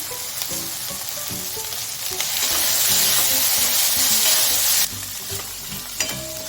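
Garlic cloves and grated coconut roast in a pan with a dense, close hiss and crackle that swells louder midway and then drops back, stirred throughout with no talking.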